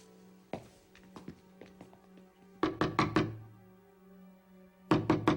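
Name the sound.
knocking on a door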